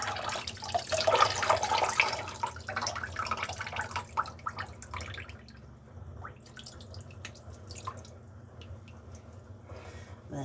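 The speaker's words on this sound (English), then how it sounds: "Let the water run out of it." Water drains out of a sink after setting spun wool, gurgling and trickling loudly at first, then thinning to scattered drips and faint splashes over a steady low hum.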